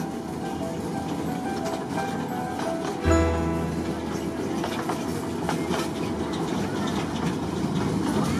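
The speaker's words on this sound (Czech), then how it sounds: "Důlní úzkorozchodnou železnici Kateřina." A narrow-gauge 600 mm mining railway train, once used for clay extraction, rumbles steadily with a sharp clunk of rolling stock about a third of the way in, then wheels clatter on in a continuous mid-distance drone.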